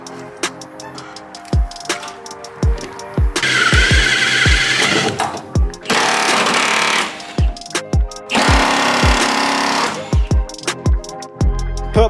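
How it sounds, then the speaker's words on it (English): Half-inch Milwaukee impact wrench hammering on bolts of a 1977 Toyota Hilux, loud rattling bursts of several seconds each separated by short pauses and sharp clicks, close and alone. "Put my half inch Milwaukee to the test. 7 out of 8 bolts snapped."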